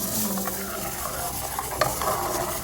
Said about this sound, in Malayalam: ഇനി നമുക്ക് നമ്മൾ അടിച്ചു വെച്ചിരിക്കുന്ന ഇതിൽ ഒഴിച്ചിട്ട് നന്നായിട്ട് ഇളക്കിക്കൊണ്ടിരിക്കണം